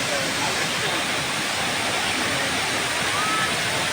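Steady, full roar of Hinulugan Taktak waterfall in Antipolo, a dense broadband rush of falling water that holds constant throughout with no breaks.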